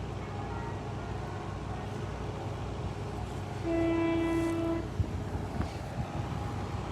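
A Freightliner freight train, 4E24 from Felixstowe to Leeds, passes Moat Hills level crossing, with a steady rumble throughout and a loud, sustained two-tone horn blast near the middle.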